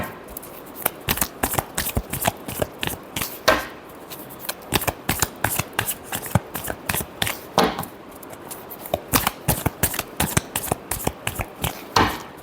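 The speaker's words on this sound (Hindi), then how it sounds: "last shuffle" Tarot cards being shuffled by hand in a steady run of crisp riffling flicks and soft slaps, with a few brief pauses, close and alone with no talk.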